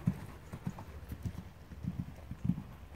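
Horse hooves clip-clop in a steady, even rhythm during a riding lesson over fences, about a dozen clear beats at moderate distance with no talk over them.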